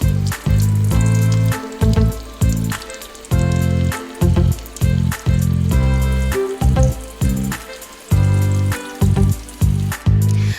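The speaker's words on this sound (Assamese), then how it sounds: "কেৰাহী এটাত অকণমান সৰহকৈ ৰিফাইন তেল গৰম হ'বলৈ দি মই চিকেনখিনি অলপ অলপকৈ ভাজি লৈছোঁ" Chicken pieces frying in hot refined oil in a wok, with sizzling in repeated bursts and a steady bubbling hiss, close and alone without talk.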